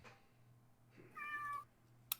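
A pet cat named Gus meows once, a clear drawn-out cry near the middle, over a faint steady hum with a sharp knock at the end.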